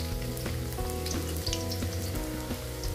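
Garlic and onion sizzle and crackle in hot oil in a pan for chicken and liver adobo, a dense, close, steady frying hiss with small popping bursts and no talking.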